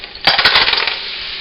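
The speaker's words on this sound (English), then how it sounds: "So I just toss them in." Fresh clams tossed into a hot pan with black bean sauce, landing in a quick cluster of sharp shell clatters followed by a steady close sizzle.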